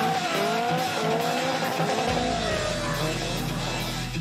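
Drifting race cars at a 2004 Japan GT exhibition in the United States slide through a bend, tires squealing loudly in wavering pitches over roaring engines, the screech sustained and close.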